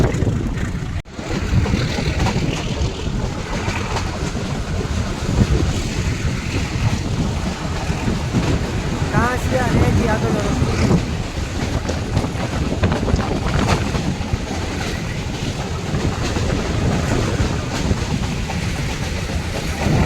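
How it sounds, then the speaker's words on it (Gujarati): A metre gauge train rolls through dense forest on the Junagadh to Sasan Gir line, a steady broadband rumble with wind buffeting the microphone, continuous and close throughout with a brief dip near the start. "ઘનઘોર જંગલથી આપણી ટ્રેન નીકળી રહી છે"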